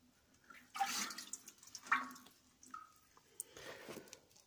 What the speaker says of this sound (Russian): Сейчас еще раз ополосну